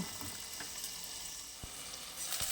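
Two medium-sized potatoes frying in oil give a faint, steady sizzling hiss with a few soft pops, heard alone and at a distance.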